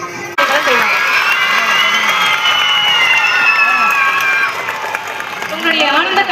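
Children clapping at a drinking water and school supplies donation event, a dense sustained round of applause with cheering and shouting voices over it, loud and close.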